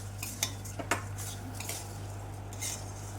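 Rice is stirred into spices in a pan for a fish-head muri ghonto, with a spatula scraping and clinking against the metal in a few sharp knocks and softer scrapes over a faint steady hum.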